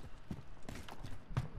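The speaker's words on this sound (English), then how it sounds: "Let's just listen for footsteps and all that," Footsteps in Modern Warfare Warzone thud and clop in an uneven series of several close, soft impacts over a little more than a second, with no talk.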